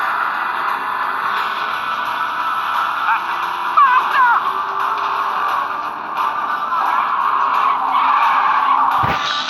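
An MTX-4 motorbike in the video game Gangstar Vegas races with a loud, sustained engine whine, with tire skids and squeals breaking through midway and a sharp impact near the end.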